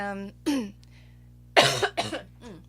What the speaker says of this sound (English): I'm still battling a little bit of the lingering flu cough